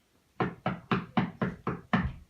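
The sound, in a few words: knock at the door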